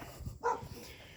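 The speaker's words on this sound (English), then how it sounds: "Countryside is full of chained up dogs." A single short dog bark, moderately close, rings out once in the Korean countryside where dogs are kept chained outdoors, with quiet ambient noise around it and no speech.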